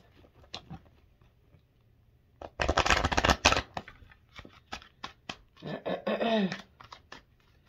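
Tarot cards are shuffled in quick riffling bursts and crisp taps, close by, with a short pause before another round of shuffling.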